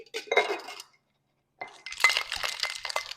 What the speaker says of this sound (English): we're gonna use 1 cube of ice in our dry shake first